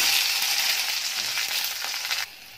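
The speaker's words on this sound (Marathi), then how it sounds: "तेल गरम झाल्यानंतर ही भेंडी आहे ती परतून घ्यायची त्याच्यामध्ये" Okra (bhindi) fries in about two spoons of hot oil in a kadai, giving a bright, dense sizzle that cuts off abruptly near the end. No talking.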